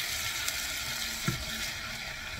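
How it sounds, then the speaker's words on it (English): Red cabbage with vinegar sautés in a pan alongside Hungarian sausage, producing a steady close sizzle with a soft stir or scrape partway through and no voices. "I would saute this for another 5 minutes at least."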